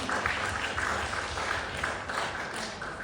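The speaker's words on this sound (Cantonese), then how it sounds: "我哋將呢度俾上帝一個榮耀嘅掌聲啊！" A church congregation claps together in praise, a dense, steady wash of applause that holds evenly for about three seconds without a break.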